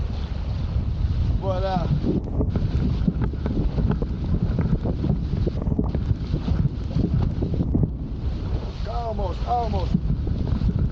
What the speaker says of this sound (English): The wind hasn't picked up that much yet